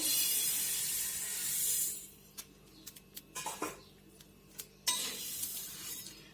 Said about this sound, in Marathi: आता मी भाजून घेणार आहे धने.